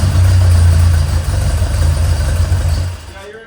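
A newly built engine idles close and loud with a steady low rumble that settles around 800 RPM, then fades toward the end.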